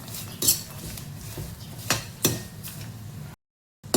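A spoon stirs salt and powdered sugar into makhana chivda in a metal pan, several distinct clinks and scrapes spaced irregularly against a soft background hiss, close and clear, with no talking.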